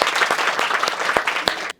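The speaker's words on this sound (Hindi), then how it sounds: "एक बार ताली तो बनती है देश की आवाज के लिए।" Audience applause from an election-results crowd, a dense steady patter of clapping at full loudness for nearly two seconds before cutting off abruptly.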